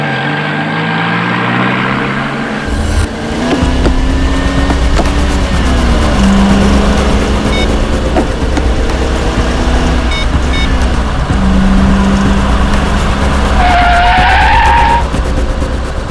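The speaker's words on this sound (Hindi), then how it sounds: "ओ भाई साहब, जरा गाड़ी आराम से चलाओ" A car driving fast and skidding, with a loud engine roar and long tyre squeals rising and falling, close and continuous for the whole stretch, no voices.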